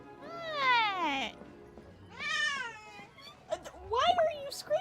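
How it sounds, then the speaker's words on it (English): A whiny house cat meows loudly three times, each call long and drawn out, with short gaps between them and the third call more broken up. "This cat is so whiny lately."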